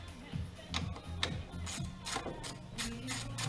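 A ratchet wrench with a 10mm socket loosens the kickstarter bolt on a Kymco Chinese scooter, giving several close bursts of quick metallic clicking with short pauses between strokes.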